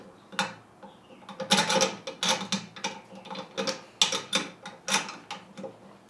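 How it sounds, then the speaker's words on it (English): A magic wrench ratchets while tightening a nut, producing a close series of sharp metallic clicks in uneven bursts with brief pauses between strokes. "Let's just see if it can just do the basic task of a wrench, just tighten up a nut."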